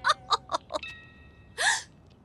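A cartoon boy's hiccups in an animated comedy: four quick, sharp hiccups in a row, followed by a short voiced gasp or squeak, loud and close.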